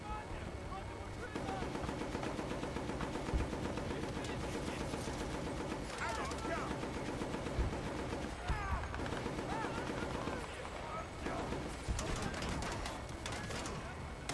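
Rapid bursts of automatic gunfire and scattered shots rattle through a Battlefield: Bad Company battle at the supply depot, dense and continuous with brief lulls, under a backdrop of game ambience.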